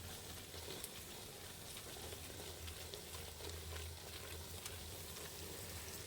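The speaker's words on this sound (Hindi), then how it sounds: "धनिया और नमक डाल के इन सब मसालों को अच्छी तरह से भून लेंगे" Spices with coriander and salt fry in a pan for a spinach-and-meat curry, giving a soft, even, continuous sizzle at low volume with a few faint stirring ticks.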